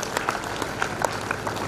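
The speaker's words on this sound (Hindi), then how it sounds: "जोरदार तालियां बजेंगी।" An audience at a stress-relief gathering in Srinagar Garhwal, Uttarakhand, claps in a dense, steady burst of applause with crisp individual claps, moderately loud and close.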